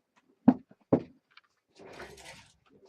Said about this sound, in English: So I'm just going to answer the door actually.